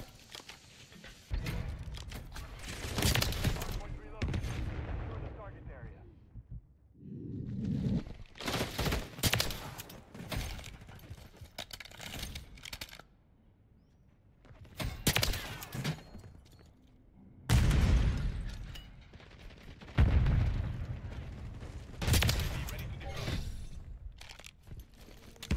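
Jak Devastators guns firing in Modern Warfare 3, heard as loud bursts of rapid gunfire in several separate volleys with short quiet gaps between them.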